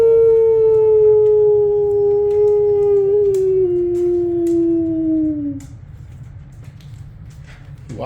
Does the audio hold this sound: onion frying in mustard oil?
no